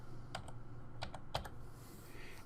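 Several quick keystrokes on a computer keyboard in two short bursts, clicking close and fairly quiet over a steady low hum, with no talking.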